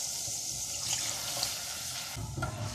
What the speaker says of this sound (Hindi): पानी और डालते हैं ताकि ये पके।